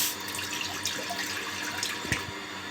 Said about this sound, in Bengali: কড়াতে একটু জল দিয়ে দেবো।